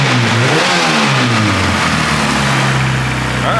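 A Honda K-series engine swapped into a Nissan S14 runs on its first start-up, revving and settling into a steady, loud idle close by with no talk over it.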